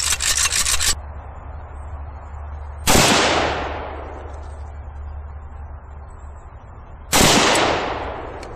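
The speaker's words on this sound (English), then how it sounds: "Okay, it's being an AK and it's working." An AK rifle fires two loud, sharp shots several seconds apart, each with a long echoing tail that fades slowly, after a burst of rattling noise at the start.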